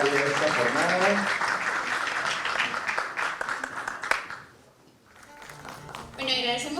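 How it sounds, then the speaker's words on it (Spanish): Audience applause rings out to close a regional lecture session on independence, dense and steady for about four seconds, then fading to near silence before a voice and a brief renewed burst of clapping return. "un aplauso por favor para cerrar esta jornada"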